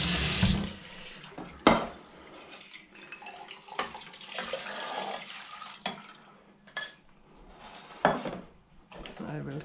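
Tap water runs into a kitchen sink while leftover shrimp shells are rinsed for homemade broth, a steady near splashing with a few louder clunks and bursts as the shells are handled.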